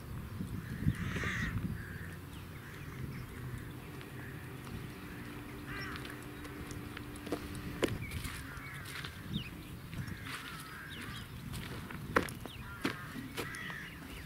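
Crows caw repeatedly at moderate distance while feeding in a dairy farm yard on maize, with scattered calls over a low outdoor rumble and occasional sharp knocks.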